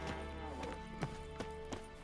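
Roach, the horse from The Witcher 3, trots with crisp, regular clip-clopping hooves, close and clear over a low game ambience.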